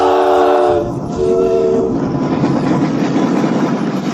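A train departs along railway tracks, opening with a loud sustained horn blast that breaks briefly and resumes, then gives way to steady rumbling rolling noise of the cars, close and loud.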